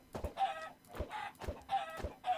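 Chickens in the video game Minecraft cluck in a clear, repeating pattern: four or five short clucks in an even rhythm, close up and alone.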